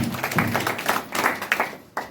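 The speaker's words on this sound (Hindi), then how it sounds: "सदन से ताली होनी चाहिए।" Audience clapping in a hall during a Buddhist ceremony, a loose patter of hands that rises and fades in uneven bursts, moderately near with no clear talk over it.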